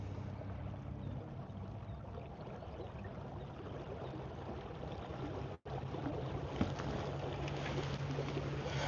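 A small boat motor runs at half throttle with a steady low hum under rushing water and wind, and a brief dropout midway before the drone resumes, fairly close.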